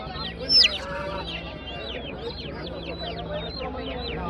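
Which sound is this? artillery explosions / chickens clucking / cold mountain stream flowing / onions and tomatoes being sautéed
chickens clucking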